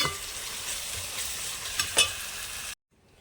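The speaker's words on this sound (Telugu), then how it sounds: "ఉల్లిపాయలు, పచ్చిమిరకాయలు, అల్లం వెల్లుల్లి పేస్ట్, జీలకర్ర మొత్తం కలిసి ఒక దగ్గరికి వచ్చినాయండి. మొత్తం ఎర్రగా వేగనిద్దాం మనం." Onions, green chilies, ginger garlic paste and cumin fry in a pan for chicken curry, crackling with a steady close sizzle and a couple of sharp stirring scrapes before cutting to near silence.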